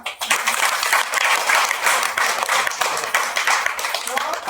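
An audience at a meeting claps together in a dense, continuous burst of applause that stays loud and even throughout, with voices faintly mixed in.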